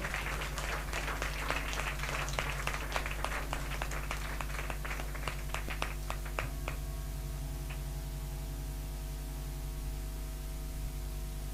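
A congregation claps loudly to glorify God at a church service, with dense rapid clapping that thins into a few scattered claps and stops midway, leaving only steady hum and hiss.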